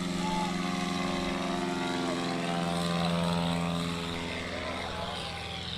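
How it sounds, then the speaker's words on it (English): A 1955 Cessna 180 propeller airplane flies past at an air show, a loud, steady droning engine and propeller roar that swells slightly and then eases as it passes. "This is the 1955 Cessna 180 that's just absolutely beautiful."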